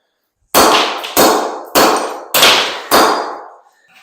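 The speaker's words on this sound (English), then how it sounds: "if you're going to just be striking it with the hammer and not using your pry bar" Five sharp, loud clangs as a claw hammer strikes floor tile during tile removal, evenly spaced blows each followed by a short ringing decay, close up with no talking.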